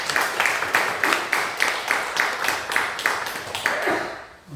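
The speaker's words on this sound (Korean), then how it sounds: "여러분 박수로 한번 축하합니다." A church congregation claps together to congratulate a member on his eightieth birthday, a loud, rhythmic unison beat of roughly three claps per second that holds steady before trailing off at the end.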